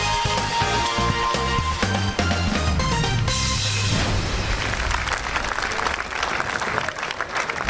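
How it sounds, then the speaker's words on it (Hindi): A studio audience at a comedy talk show claps loudly and steadily throughout, dense and continuous, with music or a boom underneath. "बहुत सारी तालियां"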